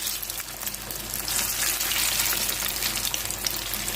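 Jackfruit pieces coated in flour frying in hot coconut oil, giving a steady close bubbling sizzle with fine crackles that stays continuous throughout.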